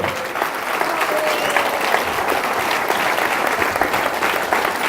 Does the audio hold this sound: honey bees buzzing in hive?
no